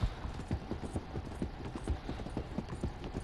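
Horse hooves clip-clop in a steady, quick rhythm in Red Dead Redemption 2, close and fairly loud throughout, with no talking.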